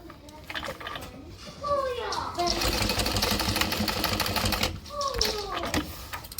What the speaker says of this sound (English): And we're gonna sew right next to our connector